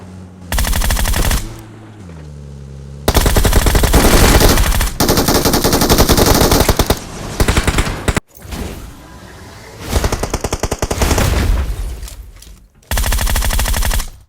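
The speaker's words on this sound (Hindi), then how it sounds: "तो इधर से होती है फायरिंग" Rapid automatic gunfire in a shooter video game, loud repeated bursts of machine-gun fire separated by short pauses and quieter in-game sounds, with no talking.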